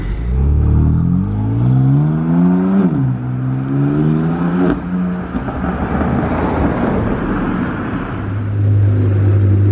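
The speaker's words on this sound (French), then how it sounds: "l'accélération de la Secobra" A Cobra sports car accelerates hard on Monaco streets, its loud engine climbing steeply through a gear change and pulling hard again, close and powerful, with no voices over it.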